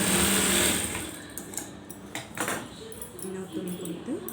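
A sewing machine whirs in short bursts while stitching cloth for a collar, close up. Someone talks over the stitching.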